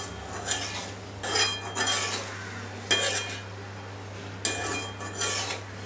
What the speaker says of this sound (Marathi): आता हे व्यवस्थित मिक्स करून 5 मिनिटांसाठी झाकून ठेवूया